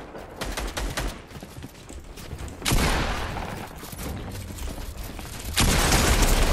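Rapid bursts of automatic gunfire in a Fortnite match, some distant and some close and loud, crackle in dense volleys over a steady background of game sounds.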